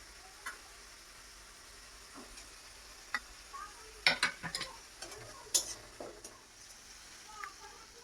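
Prawns cooking in a pan at home for prawn do-peyaza with ginger paste, giving a faint background sizzle broken by scattered scraping and stirring clatters, with a few sharper taps in the middle.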